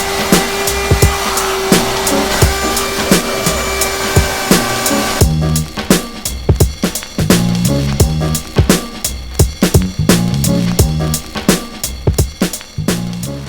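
A vacuum cleaner inside a Nissan 350Z gives a steady, close, loud whine for about five seconds, then gives way to a run of rhythmic knocks and clatter.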